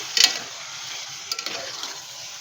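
Chicken haleem ingredients frying on a high flame, a bright, even sizzle with a couple of brief metallic clinks and scrapes of a ladle, close and with no talking.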